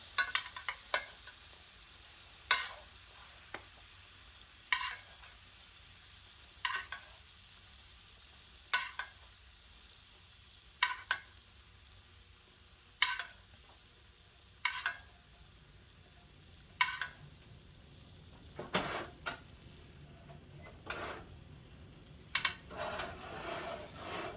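Ribeye steaks cook in a pan on a stovetop, a faint steady sizzle running under sharp, evenly spaced ticks and pops that come about every two seconds.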